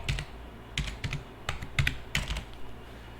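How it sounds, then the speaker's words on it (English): A computer keyboard is typed on in quick irregular clusters of clicks, close and moderately loud, with no voices. "you can go over here and type in Shotwell"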